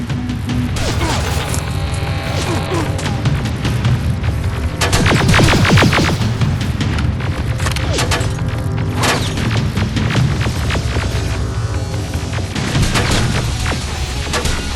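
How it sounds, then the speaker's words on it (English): Grenade blasts and rapid gunfire from the video game Terminator Resistance, a loud, dense battle of booming explosions, crashes and bursts of shots running continuously for the whole stretch. "Got grenades? Fucking throw them!"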